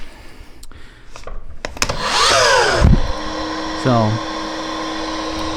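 A vacuum dust extractor hums steadily behind a Makita 36V 12-inch dual-bevel sliding compound miter saw, with a whining motor sweep and a brief cut, while someone talks over the noise.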